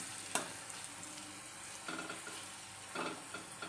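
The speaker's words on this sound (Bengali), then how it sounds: "আমার আলুগুলো অনেকটা তেলে দিয়ে দিচ্ছি আমি" Potatoes frying in a generous amount of oil, a steady close sizzle with occasional bursts of crackle and a sharp clink of a utensil near the start, no voices.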